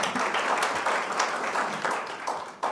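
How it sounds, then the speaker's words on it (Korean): Audience applause at a National Assembly public hearing on government innovation and blockchain, a continuous patter of many hands clapping, fairly faint and even for a few seconds without speech. "다시 한번 박수 부탁드립니다."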